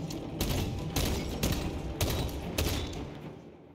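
Dense, heavy gunfire in Space Marine 2, a continuous roar of automatic weapons with rhythmic booming bursts about every half second, loud and close with no speech.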